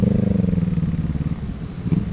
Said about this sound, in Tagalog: May nakasabay tayong big bike no, mga boss.